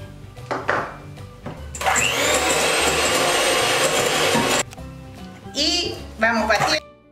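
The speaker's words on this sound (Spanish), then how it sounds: "Vamos a poner azúcar, huevo y vamos a batir." An electric hand mixer beats sugar and eggs into a batter, a loud, steady whirring burst lasting a few seconds, then a shorter second burst, with a person talking before and between.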